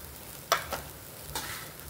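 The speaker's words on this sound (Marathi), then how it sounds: "थोडासा आपण हा परतून घ्यायचा आहे तुपामध्ये आणि मग आपण गूळ घालणार आहे" Grated coconut sautéed in ghee in a pan, a few quiet scraping stirs over a faint low sizzle.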